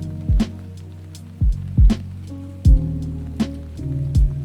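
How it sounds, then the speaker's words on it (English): Lo-fi track without sidechain limiting, with a soft, muffled bed of sustained tones and sparse, punchy low drum hits at an uneven pace, fairly quiet and heard alone. "without Fruity Limiter on here, track sounds like this."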